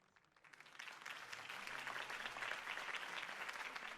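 Crowd applause from a rally scene in the Telltale Batman video game, a dense wash of clapping that swells in after a quiet start and holds steady and loud to the end.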